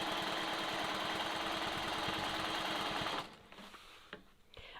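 Free-motion quilting with a sewing machine guided along a long quilting ruler: a loud, rapid, steady needle chatter for about three seconds, then it stops, leaving faint handling noises.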